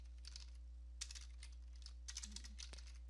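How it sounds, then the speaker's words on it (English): Keys tapped on a computer keyboard while entering a command at a Windows 10 prompt, a quiet run of soft, irregular clicks with short pauses, close and faint over a low electrical hum. "go through system restore. If not, if you guys do have numbers, it should be several million number place values and quite a few of these. Instead, you're going to type in copy"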